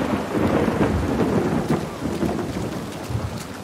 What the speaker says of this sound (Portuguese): A tempestade está a piorar.